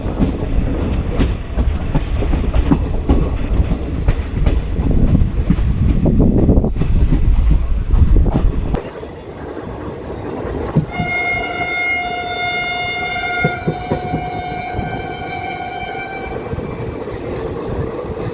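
Train 14736 from Patiala to Abohar pulls away from Rampura Phul station with a loud, heavy rumble of wheels on rails, then settles into a softer clatter as a long horn sounds repeatedly.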